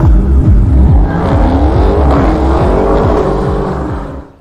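A 500-horsepower car revs hard and pulls away, its engine note rising and shifting through gears, loud and close before fading slightly at the end.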